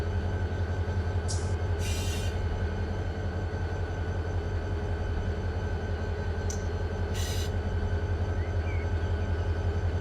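Train cars roll down through a rail yard hump in the Run8 train simulator video game, a steady low rumble with two brief bright squeals or hisses, moderately loud throughout.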